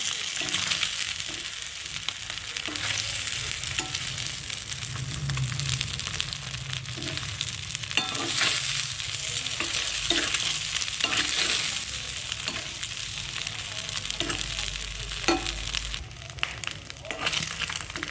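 Steady sizzling and crackling of food frying in plenty of mustard oil while an egg curry is cooked, with stirring scrapes at times, continuous and fairly close with no talk.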